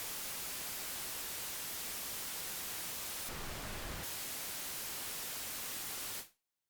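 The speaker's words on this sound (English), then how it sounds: "we can hear the white noise." White noise feeding a sidechain gate key in Pro Tools, a steady full-band hiss that runs continuously and evenly, with a brief brighter surge near the middle, then cuts off abruptly at the end.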